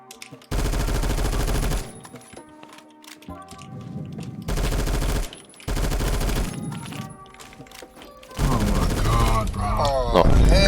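Bursts of C7A1 assault rifle fire in the shooter game Phantom Forces, several sustained loud volleys separated by short pauses, with game sounds and someone talking between bursts.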